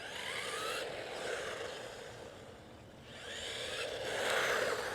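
Steady whirring rumble of a WLtoys 124019 RC car's small tires rolling over a surface, swelling and fading as the car passes, fairly close with no talking.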